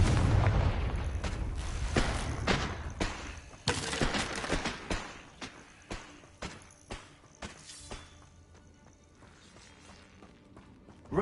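Repeated blasting-spell explosions in a Hogwarts game go off one after another, with heavy bursts early on giving way to a regular series of sharper, fading booms.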